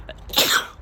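A single short, sharp sneeze from a cartoon tire-repair character, close and loud against a quiet background.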